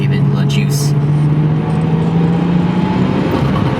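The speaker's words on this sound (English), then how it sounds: "Let's give it a little baby flutter." A warmed-up Nissan R32 Skyline turbo engine is revved gently, giving a steady loud close engine drone with a faint fluttering whoosh.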